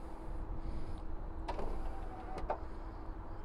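Power running boards on a 2014 Jeep Rubicon fold down with a soft motorized whir over steady low background hum, with two brief mechanical clunks partway through.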